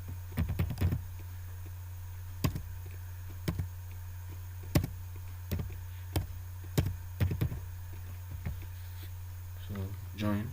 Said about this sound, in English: You select the whole body, you type join.